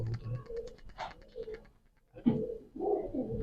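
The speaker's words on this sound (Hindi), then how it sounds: "ये रामपुरी कबूतर है" A Rampuri pigeon coos in a breeding setup, soft throaty burbling calls repeated close by, with a short pause before louder coos resume.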